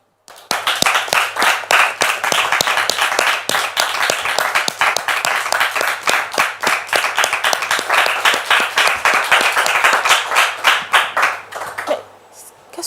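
Live audience applause welcoming a pastor onto a stage, dense steady clapping that holds loud for about twelve seconds before thinning out to a few scattered claps.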